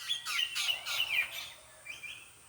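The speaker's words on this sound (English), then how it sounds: "there's some beautiful orange, yellow, orange, yellow, and black birds, and they're all quarreling there" Outdoor birds with orange, yellow and black plumage quarrel in a quick burst of bright, close chirps and tweets, followed by a couple of fainter calls.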